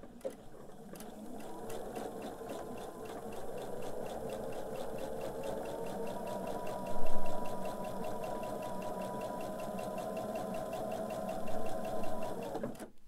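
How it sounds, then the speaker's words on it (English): A domestic sewing machine stitching quilting fabric pieces along a quarter-inch guide, running as a steady, close mechanical whir and hum for about twelve seconds, with a couple of brief louder thumps. "I like to sew on that so I don't end up with that nest of threads here when I'm beginning sewing on my piece."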